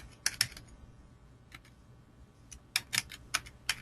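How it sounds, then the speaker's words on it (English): Keys on a computer keyboard are typed to enter a kit label, with short bursts of clicks separated by pauses, quiet and close, with no one talking. "I would scan in or type in the kit label."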